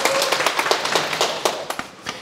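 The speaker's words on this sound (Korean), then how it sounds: "박수 한번 치세요" Audience clapping hands during a Sunday dharma talk: a scattered round of distinct, nearby claps with uneven rhythm, individual sharp slaps standing out as the clapping tapers off.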